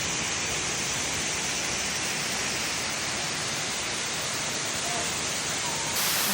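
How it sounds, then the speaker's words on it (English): Loud, steady rush of a waterfall on the Lulumahu hike, a continuous broadband roar filling the whole stretch with no other sounds. "Beautiful waterfall."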